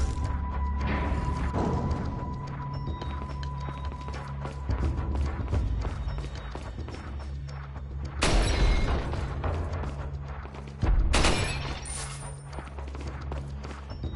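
Gunshots fired at a wine bottle in Resident Evil 4, two sharp loud cracks with shattering bursts standing out over a continuous low game ambience and music bed.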